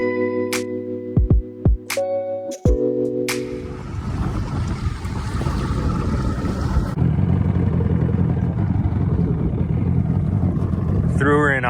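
An Action Craft 1760 Bayrunner flats boat idles on the water. A steady low engine rumble mixes with water wash after a few brief tonal sounds at the start, and a voice may be faintly present.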